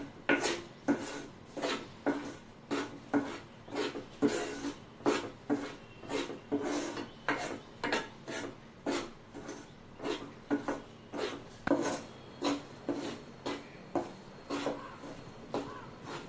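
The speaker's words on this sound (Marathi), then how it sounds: "मंद गॅसवर भाजून घ्यायचंय, म्हणजे पीठ छान भाजलं जाईल।" Wheat flour for a jaggery shira being roasted in a pan over a low gas flame, with a steady, rhythmic scraping and rasping of a spoon stirring the flour, repeated strokes about once per second, close and fairly quiet.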